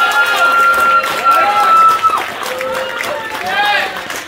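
Church audience cheering and whooping loudly for several seconds, with mixed voices and some clapping, and speech briefly overlapping.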